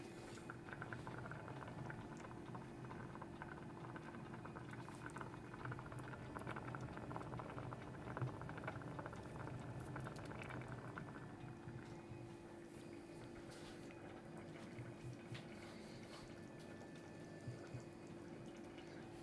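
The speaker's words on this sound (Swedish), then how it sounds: "Sen så ska vi låta det här koka i ungefär 5 minuter." Paprika soup with water and stock simmers in a pot on the stove, giving a steady, faint bubbling and popping that carries on without a break, with no voices.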